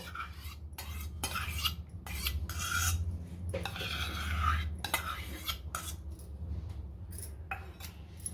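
A spoon stirring curd into warm milk in a pot, rhythmic scraping and clinking of metal against the vessel, close and fairly quiet, no talking.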